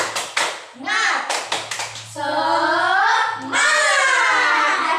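Fifth-grade classroom doing a rhythmic clapping routine, several sharp clap bursts up front followed by loud chanting children's voices, with a teacher's voice mixed in.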